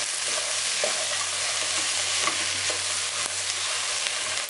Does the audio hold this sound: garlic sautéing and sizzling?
yes